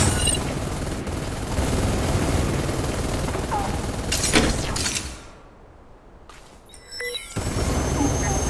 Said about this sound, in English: Who fired on us?